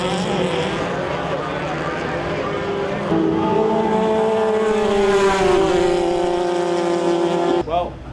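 An off-road 1600 buggy racing at Crandon, with engines droning loud and near and pitch climbing and falling as the cars pass, while a voice talks over the racing.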